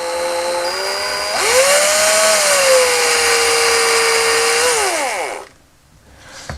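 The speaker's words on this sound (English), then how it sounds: "I don't want to drill sort of through the top of the arm." A small power drill whines at high speed, pitch dipping as it bites slowly into the plastic arm of a vintage Kenner C-3PO toy, then cuts off, leaving near silence.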